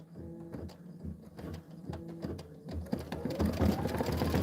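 A Kimberbell embroidery machine stitching, its needle hammering in quick rhythmic bursts with short pauses between runs, close and fairly quiet, getting busier toward the end.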